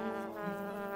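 A cartoon housefly buzzes in a continuous close drone with a steady tone that wavers slightly, alone with no speech.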